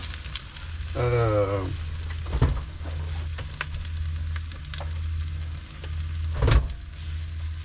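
Food fries over lowered heat in a pan inside a camper van, giving a steady, close sizzle that runs throughout with a few louder crackles and a brief voice early on.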